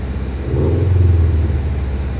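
A Subaru WRX engine, with its heater not producing heat, revs briefly in a low, steady rumble that swells after a moment and holds, close and loud, with no talk.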